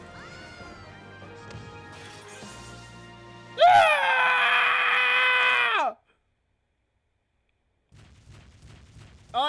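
A monster in the Monster Hunter Stories video game lets out a loud, harmonic scream that lasts about two seconds and ends abruptly. Quieter game sounds come before it, and there is near silence after it.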